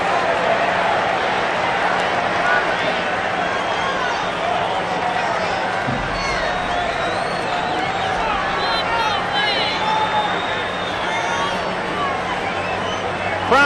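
A steady roar from a baseball stadium crowd at Game 7 of the 1985 World Series, Cardinals at Royals in Kansas City. The sustained, dense murmur and cheering fills the whole clip at a constant loud level.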